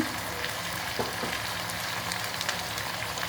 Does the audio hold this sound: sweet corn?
yes